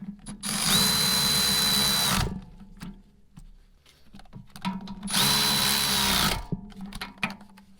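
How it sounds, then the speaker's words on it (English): Impact wrench tightening brake caliper bolts on a 3rd-gen Toyota 4Runner, two loud sustained whirring bursts of about a second and a half each, separated by clinks of tools and metal, close by. "Now I can come in and get my impact in here, or my half-inch ratchet, and just tighten these up"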